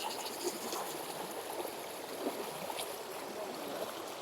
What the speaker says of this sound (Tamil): தண்ணி போகிறதெல்லாம் வேற லெவலுங்க பாருங்க.